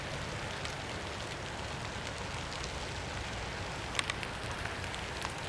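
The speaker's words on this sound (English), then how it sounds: "I know it's raining" Rain falls steadily in a wooded area, a soft dense hiss of drops with a few brighter taps on nearby surfaces, even and fairly faint throughout with no voices.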